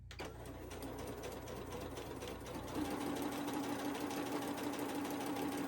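Sewing machine stitching through a paper booklet, a fast steady mechanical whirr with rapid needle clatter, close and fairly quiet, running continuously without pause.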